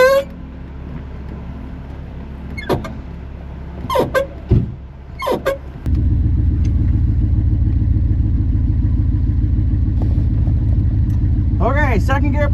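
Turbocharged Dodge Dakota pickup at a drag strip: a quieter stretch with a few brief clatters gives way to a loud, steady low engine drone that holds close and unbroken to the end.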